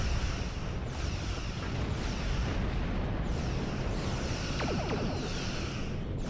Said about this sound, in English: Shoot the torpedo.